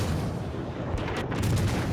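Naval gunfire and an exploding destroyer in World of Warships, a continuous heavy rumbling roar with a deep boom near the end, loud and close.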